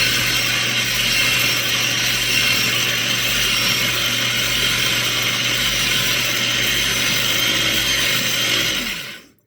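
Electric Twist & Chop chopper grinding oatmeal into oat flour, a loud, constant whirring motor buzz held for several seconds before it cuts off abruptly, close by.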